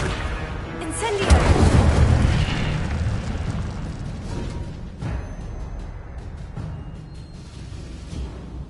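In a Hogwarts video game, the Incendio fire spell goes off as a loud, close burst of flame with a booming whoosh. It then fades into a lingering crackling rumble, and a softer pop follows later.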